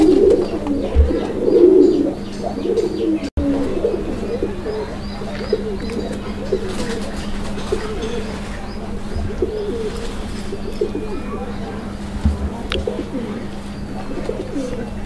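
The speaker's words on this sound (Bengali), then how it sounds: "আপনারা দেখতে পাচ্ছেন এটা হচ্ছে বোম্বাই কবুতর একটা জোড়া" A pair of Bombay pigeons coos steadily at close range, the low rounded calls repeating through a background of room hum and soft shuffling.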